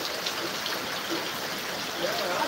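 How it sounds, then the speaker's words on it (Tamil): Heavy rainwater pouring down a pole beside a gate in a downpour, a steady, continuous rushing trickle of water with even loudness throughout. "அந்த கேட்டுக்கிட்ட இருக்கிற கம்பத்தில் தண்ணி எப்படி வருதுன்னு பாருங்களேன். செம்ம நிறைய தண்ணி வருது."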